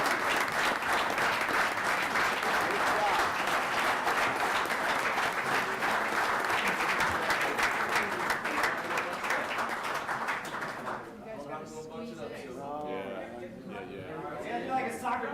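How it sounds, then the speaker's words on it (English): Loud, sustained applause from a crowd at a Waukegan city council meeting fills most of the clip, then fades into voices talking. "All of these folks, give them a round of applause."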